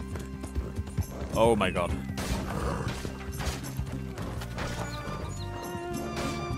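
Horse hooves clip-clopping at speed on a dirt road in Red Dead Redemption 2, a steady galloping rhythm with a sudden clattering jolt as it turns, under game music and a man's spoken exclamations.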